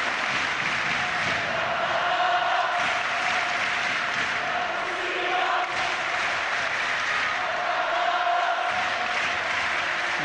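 Crowd in an indoor arena at a final between two teams, a dense sustained roar of voices with chanting and cheering filling the hall steadily throughout, with no breaks.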